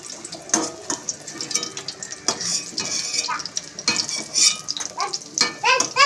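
Fried pakoras lifted from a pan of hot oil: repeated metal utensil scrapes and clinks over a background of frying oil, close and uneven.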